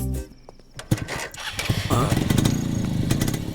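A motorcycle engine, from a South Indian action film dubbed in Hindi, starts up and settles into a steady, fairly close running rumble through the latter half, with brief sounds and some voice activity early on.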